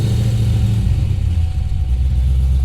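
A car engine runs loudly and steadily after being started, a deep rumbling hum with a slight rise in revs, close by and alone with no voices.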